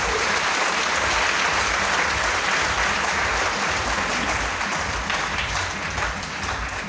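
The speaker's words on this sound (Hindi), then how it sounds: "सभी लोग दिल के जोरदार ताली बजाएं" Seminar audience applauding, a dense, sustained wash of many hands clapping together, loud and steady throughout with a slight easing near the end.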